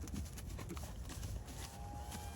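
A galloping horse's hooves clatter in a steady, fast rhythm while it is reined in and slowed, close and continuous over outdoor noise for the whole stretch.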